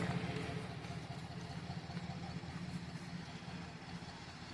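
A 2008 GMC Sierra 4x4 pickup engine idles steadily with a low, even rumble and faint, quiet exhaust burble without misfiring, with no talking over it.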